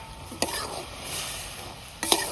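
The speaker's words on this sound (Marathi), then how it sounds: "असं सारखं हलवून घ्यावं लागते त्याला." Vegetables sizzle softly in a wok while a utensil scrapes and stirs, with two brief clattering strokes against the pan's side.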